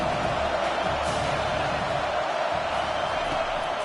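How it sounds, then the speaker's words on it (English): A college football stadium crowd, #1 Tulane vs. #20 UGA, makes a steady broad roar of cheering and noise throughout, dense and distant-sounding, while a commentator talks over it. "This crowd knows when to bring it."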